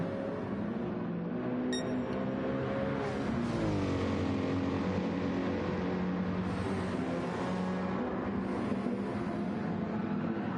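Race cars at Daytona in Gran Turismo 7 roar continuously as several run bumper to bumper, engines droning and shifting pitch as they pass close by, steady and loud with no voices.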